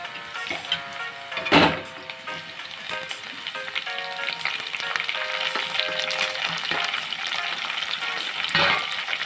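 Mint and ginger-garlic paste frying in a pan for chicken curry, a steady close sizzle running throughout with a couple of louder stirring scrapes and clatters.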